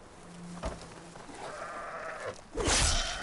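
A goat bleats inside the video game Horizon: a few short, nasal calls rise out of a steady game background, ending in a louder burst near the close.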